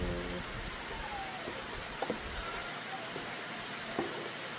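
Steady rain falls outdoors as a constant broadband hiss, with a few brief drip or patter accents standing out over the wash.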